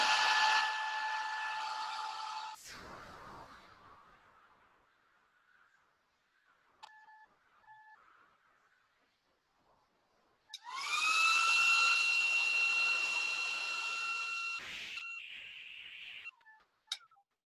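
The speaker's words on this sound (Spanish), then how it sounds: "Yo voy a utilizar el secador para que vaya un poquito más rápido." A handheld hair dryer blows with a steady whine while drying paint, running for a couple of seconds, cutting off, then starting again loudly for several seconds before stopping.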